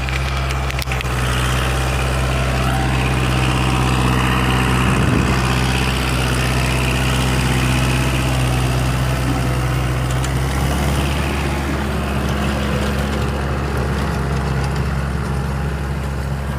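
A Kubota MU4501 tractor engine runs in a field during a rotavator demonstration, a loud steady low diesel rumble with strong even harmonics that continues throughout.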